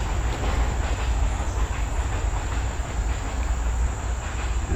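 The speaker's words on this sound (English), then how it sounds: "And there goes the train." A train rolls past a shady park trail in summer, a loud continuous rumble and rattle of rail cars holding steady throughout, with no one speaking.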